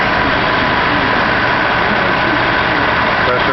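A 2009 Cadillac DTS idles with its A/C compressor engaged, the system cooling only intermittently; a loud, steady, unbroken engine and compressor drone fills the whole stretch at close range.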